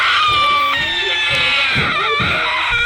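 A person imitates a deranged woman's blood-curdling scream with a loud, sustained, shrill wail that wavers in pitch for about three seconds and stays prominent throughout.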